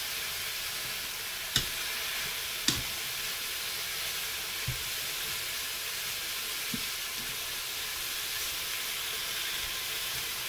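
Beef browns in a Cookeo multicooker with a soft, steady sizzle and hiss. A few faint clicks and knocks occasionally break through the frying.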